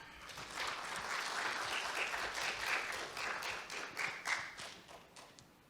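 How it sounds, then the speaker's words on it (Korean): Audience at a Korean stock-market investment seminar applauds to welcome a Meritz Securities strategist onto the stage: steady, dense clapping from a live crowd sustained for several seconds, swelling and then tapering off near the end, with no talking. "큰 박수로 맞이해 주시겠습니다."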